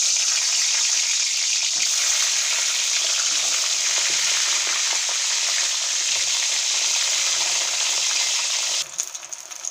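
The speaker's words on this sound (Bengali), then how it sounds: "তেলটা গরম হয়ে গেছে, এবার ভেজে নেব বেগুন।" Eggplant pieces frying in hot oil, a close, steady, hissing sizzle with faint crackles that continues unbroken for nearly ten seconds before a brief clatter at the end; no one speaks.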